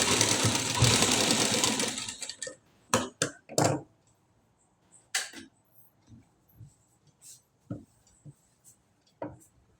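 A sewing machine stitches around a blouse collar in a loud, dense burst for about two seconds, then only scattered short clicks and thumps follow from handling.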